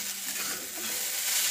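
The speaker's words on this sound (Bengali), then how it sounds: "আলু ভাজাটা তাড়াতাড়ি করে সাথে সাথে নাড়তে হচ্ছে" Potatoes frying in a pan are stirred briskly, a bright continuous sizzle with scraping and rustling from the spatula, close and loud throughout a short burst with no talk.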